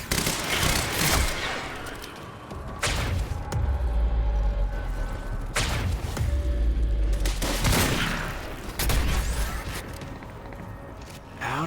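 Submachine gun fire in the video game Quantum Break: sustained rapid automatic bursts with heavy low booms every few seconds, loud and near, continuing almost without pause.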